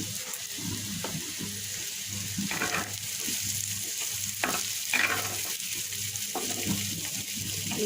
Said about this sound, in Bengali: কুমড়ার ভাজি হয়ে গিয়েছে এবার একটু ভাজা জিরের গুঁড়া দিয়ে মিশিয়ে নামিয়ে নেব